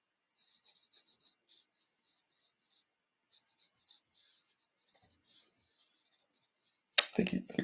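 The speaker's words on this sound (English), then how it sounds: "I think we're drawing him a little too big for this size sheet of paper." A pencil scratches and rubs on a sheet of paper in short, faint strokes spaced across a quiet room while a comic character is drawn, and a louder, sudden rustle comes at the end.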